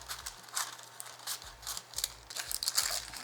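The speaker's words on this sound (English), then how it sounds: "I will be cutting some wax paper into squares and lining it still" Scissors snip wax paper into squares for lining muffin tins in a kitchen, a run of crisp, close cutting strokes with crinkling paper between them, no voices.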